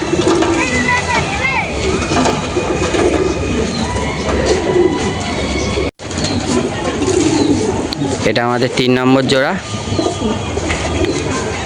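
Madras pigeons coo repeatedly close by amid background noise, their soft throaty calls recurring through the clip, with someone speaking briefly over them.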